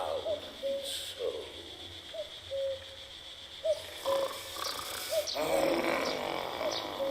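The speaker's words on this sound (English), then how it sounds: "Goodness, man. Easy on the cuckoos." Repeated soft cuckoo-like hooting calls from a bird in the Night of the Rabbit video game, evenly spaced two-note tones over a quiet ambient backdrop, fairly faint, with brighter noise bursts toward the end.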